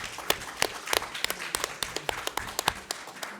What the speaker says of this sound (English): Another round, a big clap for them,